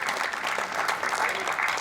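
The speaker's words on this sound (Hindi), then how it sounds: "आप लोग एक बार जोरदार तालियां बजाएं।" Applause from an audience at a Hindi-Urdu poetry gathering held at an IIT campus: a steady, fairly soft patter of many hands clapping, even and continuous, heard from a distance with no voices.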